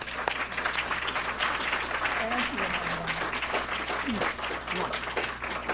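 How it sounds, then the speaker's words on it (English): Steady audience applause in a theater before a film introduction, a dense sustained wash of clapping with crowd voices and cheering mixed in, loud and continuous throughout. "Let's give her a round of applause."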